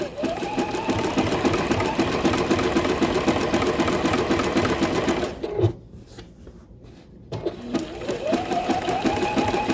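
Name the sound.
sewing machine zigzag stitching quilt applique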